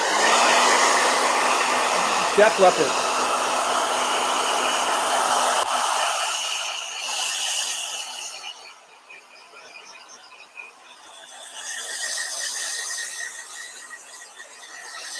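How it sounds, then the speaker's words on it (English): A hair dryer roars loudly and continuously, its pitch and strength shifting as it moves, while a voice briefly speaks. "Blow dryer."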